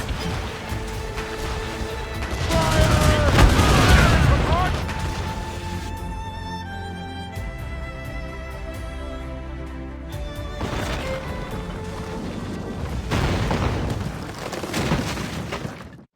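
Ship cannons boom in a naval battle in Assassin's Creed Rogue, heavy rumbling blasts at the start and again near the end over a sustained musical score, with crew voices shouting.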